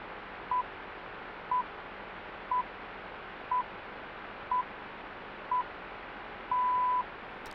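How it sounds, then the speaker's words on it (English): The MSF radio time signal during the June 2015 leap second plays seven short evenly spaced pips, one per second, with the final pip held longer, all over steady radio hiss. "Listen for the 7 PIPs now."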